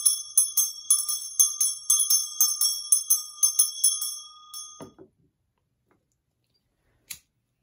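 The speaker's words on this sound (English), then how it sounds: "We're going to take 3 deep breaths and I'll ring the bell." A small bell rung during a Beltane ritual gives a quick run of bright, ringing strikes for several seconds, then stops, leaving near silence broken by one faint brief tap.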